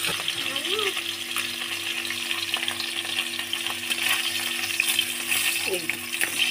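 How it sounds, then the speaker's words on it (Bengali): Hilsa fish heads fry in hot oil with a continuous close sizzle and crackle, steady throughout, with a faint voice briefly audible underneath. "আগে ইলিশ মাছের মাথাটা ভেজে নেবো, মাথাগুলো আমি এবার ভেজে নেবো।"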